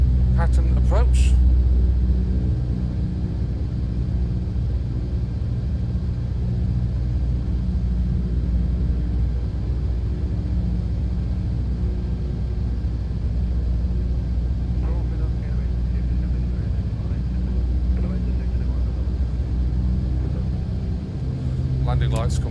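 A Cessna 152 Aerobat engine drones steadily on a landing approach in Microsoft Flight Simulator, a continuous low propeller rumble under talk. Brief clicks and switch sounds come near the start and end.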